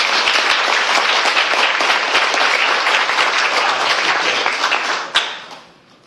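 Applause from an audience at an indoor gathering, many people clapping in a loud, dense wash that holds steady and then fades out after a final sharp clap.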